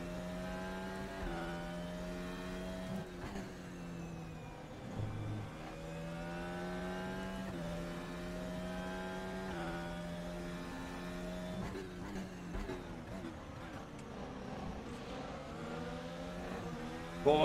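Formula 1 race car engine in a racing video game at the Zolder circuit, revving continuously with rising and falling pitch as the throttle is worked, loud and close throughout with brief dips between pulls.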